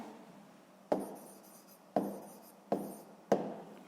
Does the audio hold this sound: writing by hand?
yes